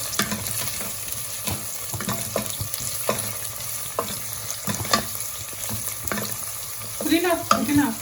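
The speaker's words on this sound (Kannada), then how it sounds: "ಈರುಳ್ಳಿ ಮತ್ತು ಹಸಿಮೆಣಸಿನ್ಕಾಯಿ, ಚೆನ್ನಾಗಿ ಫ್ರೈ ಆಗಿದೆ." Onions and green chillies fry in a pan for Naidu-style mutton biryani, a moderate sizzle under frequent scraping stirs and clinks, growing busier toward the end, without talking.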